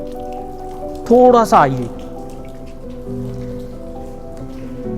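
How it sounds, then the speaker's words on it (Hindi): Water falls steadily from above in a rock-cut cave during the rainy season, a constant rain-like patter and splash throughout, with someone briefly speaking over it. "बारिश का मौसम है तो ऊपर से झरना बहता है"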